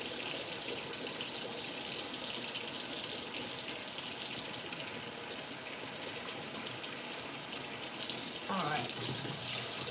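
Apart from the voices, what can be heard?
tap water rinsing potatoes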